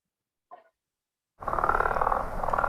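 A person's voice imitates a frog, giving a short faint croak, then after a pause a longer, louder throaty rasping croak that continues to the end.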